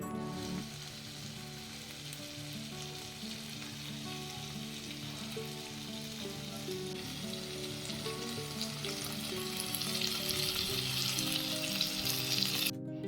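Taro stolons fry in a pan with a continuous, close sizzle that swells louder toward the end. No voices can be heard.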